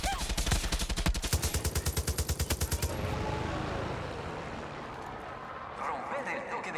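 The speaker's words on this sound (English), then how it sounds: "you get the exploding machine gun bullets" Exploding machine gun rounds fire in a fast, even burst in Far Cry 6, loud and close for about three seconds, then give way to a rumbling wash of blasts and debris.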